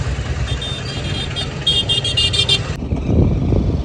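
Heavy road traffic in Una, India, a steady nearby rumble of cars and motorbikes with engines idling and revving, plus a brief high-pitched horn-like tone partway through.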